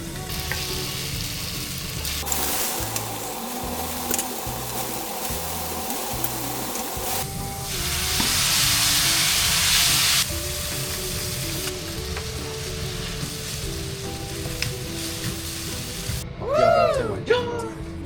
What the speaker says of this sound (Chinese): 煎到它两面都是那种焦黄的样子